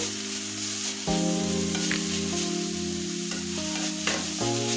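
Radish greens frying in a pan, a close, loud steady sizzle with a hum underneath and occasional soft stirring scrapes, no voices.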